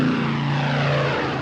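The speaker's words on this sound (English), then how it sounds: "airplanes from the west came over Kleinmachnow, over the High Party Academy, in order to land in Tempelhof." A propeller-driven airlift plane approaches to land at Tempelhof in Berlin, its engines droning loudly and steadily overhead with a deep, even hum.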